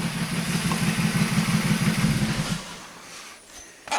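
A VW Polo 1.2 AZQ engine idles unevenly with a misfire, its low pulsing chug loud and near for about two and a half seconds before dropping off, leaving quieter clatter and a brief knock at the end.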